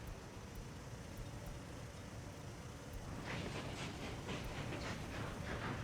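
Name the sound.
train running in Workers & Resources video game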